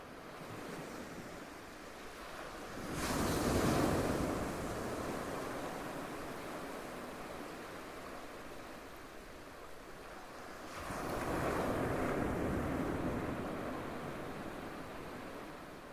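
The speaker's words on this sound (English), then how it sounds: "I recorded the waves at Portobello this autumn" Sea waves breaking on the North Sea shore at Portobello, Edinburgh, in autumn: two broad swells of surf rise and fall several seconds apart over a steady rush of wind and water, with no voices.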